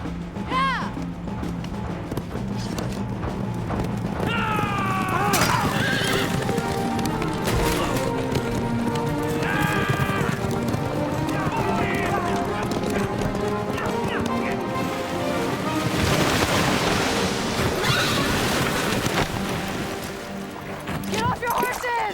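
Horses galloping and neighing during a river crossing in a medieval battle scene, with continuous hoof clatter, sharp whinnies and splashing water under shouting voices and a dramatic orchestral score.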